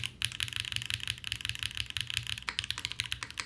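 Rapid, even typing on a KBDFan KBD8X aluminum-cased mechanical keyboard, close and crisp, with a steady stream of sharp key clacks and a hollow low thock under each press.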